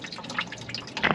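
Grey dishwater trickles and drips through a filter bucket at a desert campsite, a close run of irregular wet plinks and splashes with no talking.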